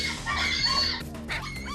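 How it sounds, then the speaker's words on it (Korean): Excited barking from a reactive dog, loud and close, overlapping with other dogs rushing out, in a busy, dense stretch with no clear gaps. "저 짖음은 되게 흥분도가 높을 때 하는."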